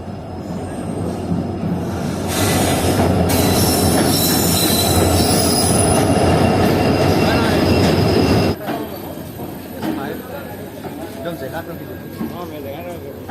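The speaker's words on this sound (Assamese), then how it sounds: "এতিয়া বৰ্তমান ট্ৰেইন আহি পালে" A passenger train pulls into a station on the way to Guwahati, wheels squealing loudly on the rails for several seconds, then easing into rumbling clatter as it slows, with voices and platform bustle around it.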